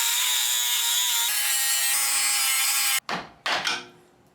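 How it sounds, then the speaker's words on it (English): A power cutting tool grinds steadily through a stuck nut on a car's rear suspension, a loud continuous whine for about three seconds, then cutting off with a couple of short metallic clatters and bursts. "I just need to cut off the nut to get it all the way out."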